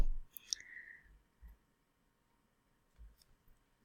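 A few quiet computer mouse clicks while creating a Mendeley account, spaced out over a near-silent background.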